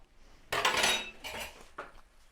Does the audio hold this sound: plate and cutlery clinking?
yes